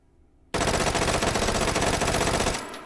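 An SR3M carbine fitted with a foregrip and no stock fires in the VR shooter H3VR, letting off one loud, rapid automatic burst of about two seconds after a quiet start, with no talking.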